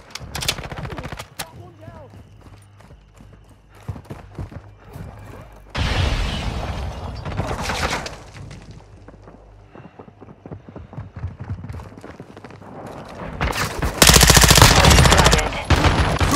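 Automatic gunfire and single shots from Call of Duty Modern Warfare 2 multiplayer, loud bursts recurring through the clip with a heavy close burst near the end, mixed with game sounds and faint radio-style voice callouts.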